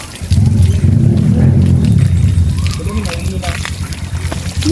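Outdoor shower at a forest resort pool area, water running and splashing in a steady rush, loud and close, with people talking over it.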